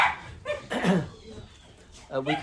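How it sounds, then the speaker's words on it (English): Several dogs bark and yip at a house as a visitor arrives, loud close barks mixed with whimpers and overlapping talk. "the dogs are going to pick up okay. They're going to bark for a bit"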